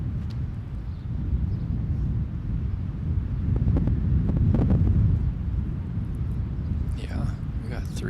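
Steady, heavy wind buffeting a microphone across an open disc golf course, a low rumbling roar that swells and eases throughout, with faint voices murmuring near the end.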